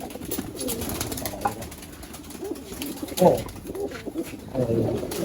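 Domestic pigeons in a fancier's loft coo in low, repeated bursts, with a louder call near the middle and another toward the end, over a steady background murmur.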